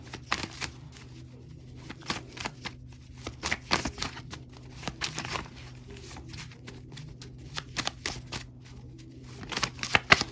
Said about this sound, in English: It's hard to shuffle these because I mixed these two together.